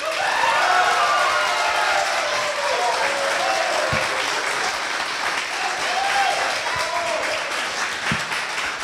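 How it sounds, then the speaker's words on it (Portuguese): A crowd at an election debate at a Pernambuco federal institute applauds in a dense, steady wash of clapping that lasts throughout and stays loud, with faint voices mixed in. "Queria reforçar a solicitação para que os aplausos fiquem para o final da fala"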